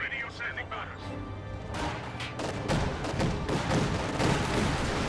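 A German anti-tank grenade destroys an Allied 222 armoured car in Company of Heroes 2: a loud explosive blast and crash of wreckage amid ongoing battlefield gunfire and booms, with a voice talking underneath.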